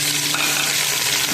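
Tomatoes and green chillies frying with onions in a pan make a loud, constant sizzle over the whole short stretch.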